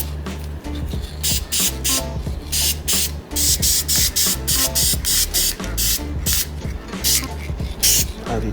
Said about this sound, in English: we're going to spray paint our silver